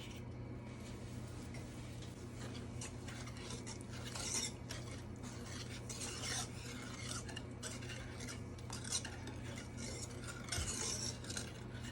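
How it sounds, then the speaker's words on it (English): A spoon gently stirs brown sugar penuche fudge mixture in a pot, giving soft, continuous scraping and swishing with occasional light clinks against the metal, steady and close over a low background hum. "So I'm just doing a gentle stir"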